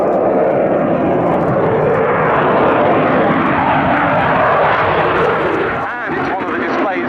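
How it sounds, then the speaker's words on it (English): Belgian Air Force F-16 fighter jet in a flying display at an airshow, a loud, close, continuous engine roar that swells and then eases slightly near the end, with a commentator's voice talking over it. "Belgian F-16s, along with those of the other European air forces operating the A and B models"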